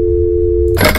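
A phone busy signal in the horror game That's Not My Neighbor: a steady loud tone that cuts off abruptly into a brief burst of noisy clatter.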